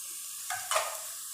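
White cumin seeds drop into hot oil with lightly browned onions, giving two quick bursts of sizzling over a faint background hiss.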